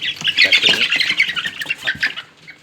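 Many chicks of a purebred egg-laying chicken breed peep and squawk in a continuous, busy chorus, loud and close, with overlapping shrill cheeps that taper off toward the end.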